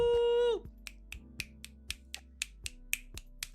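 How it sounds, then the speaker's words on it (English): A sustained tone cuts off, then about a dozen crisp finger snaps follow in a steady, fairly even rhythm, sharp and close with quiet gaps between each snap. "Finger snaps."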